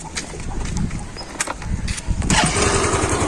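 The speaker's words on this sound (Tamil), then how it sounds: "செல்ஃப் அப்படி தட்டினாலே ஸ்டார்ட் ஆகும்." A 2014 Yamaha Alpha scooter engine self-starts from a push of the starter button, a short crank catching into a steady, close, moderately loud idle that rises slightly toward the end.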